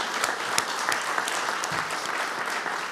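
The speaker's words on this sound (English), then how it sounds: "Please, let's give her all a round of applause." Steady applause from the audience at an Ithaca College alumni awards ceremony, a continuous even patter of many hands in a large room, with no talk over it.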